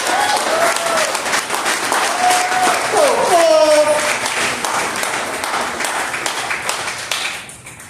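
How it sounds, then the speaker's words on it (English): A celebration audience applauds a woman introduced as Miss Topaz at an African American awards event, broad steady clapping filling the hall for several seconds, with some cheers and voices riding over it before it tapers off. "Would you all give a round of applause for Miss Topaz?"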